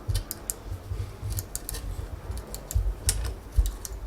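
The rebound adjustment knob on a cheap mountain bike rear shock clicks through its detents, a quick, fairly steady series of small sharp clicks heard up close over a low, rumbling background.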